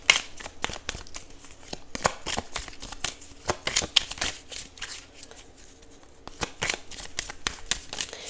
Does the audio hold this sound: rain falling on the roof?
no